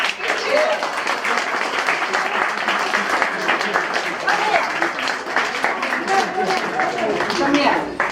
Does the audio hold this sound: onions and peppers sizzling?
no